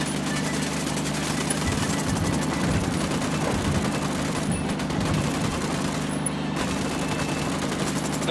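Rapid, continuous automatic gunfire rattles in the Ghost Recon Wildlands video game, a dense unbroken fusillade of overlapping shots at steady loudness throughout.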